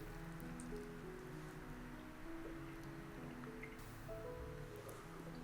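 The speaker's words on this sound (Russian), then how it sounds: "Теперь воду с картофеля сливаем." Water drains off boiled potatoes in a steady, soft pouring and dripping wash that continues evenly and quietly throughout, with no talking.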